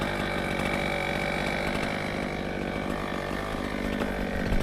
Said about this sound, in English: this is like a pretty old brush cutter